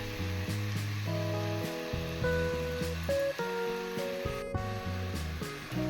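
Mustard paste goes into sizzling spices and softened tomato for tel koi, a fish curry. A faint, steady frying hiss sits beneath louder background music.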